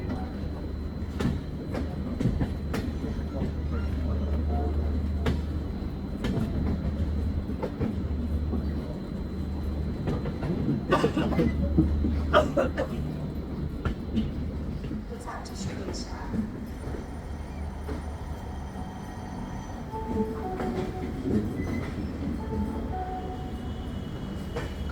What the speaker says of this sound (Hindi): 7658 WAP7 के साथ यशवंतपुर जयपुर सुपरफास्ट एक्सप्रेस